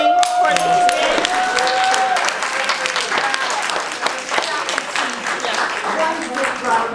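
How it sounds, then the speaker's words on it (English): Audience at a Queen Mother Moore legacy symposium claps and applauds steadily throughout, with cheers and voices mixed into the crowd noise. "can we give a round of applause to Judy and Audley Moore for coming for this event?"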